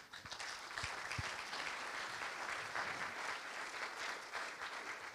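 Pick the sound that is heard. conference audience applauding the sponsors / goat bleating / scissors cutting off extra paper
conference audience applauding the sponsors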